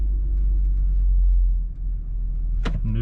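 A 5th-gen Toyota 4Runner engine idles with a steady low rumble while gears are shifted, and a short clunk or click comes near the end, close and continuous with no talking.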